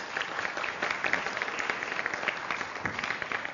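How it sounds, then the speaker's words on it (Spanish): An audience at a Mexican agrarian law lecture applauds an introduced guest, a moderately dense round of clapping sustained evenly throughout. "un aplauso para él"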